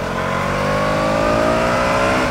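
A 2022 KTM Duke 200 motorcycle engine revving hard toward 7000 RPM, a loud, close, steadily rising whine that climbs in pitch over a couple of seconds without pause.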